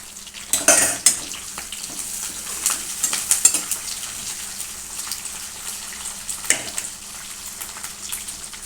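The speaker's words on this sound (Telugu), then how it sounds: "వంకాయలు వేస్తున్నానండి, ఇంకా కరివేపాకు కూడా వేస్తున్నానండి." Brinjals and curry leaves dropped into hot oil in a kadai, sizzling and crackling steadily, with sharp spatters early on and the scrape of stirring, close and moderately loud, no talking.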